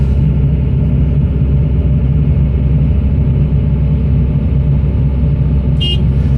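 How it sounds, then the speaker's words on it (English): An excavator at a loadout stockpile gives a short horn beep to a dump truck, a brief toot near the end over a loud, continuous diesel engine rumble. "It's always good to give these trucks a little complimentary beep when they're getting close to that bank"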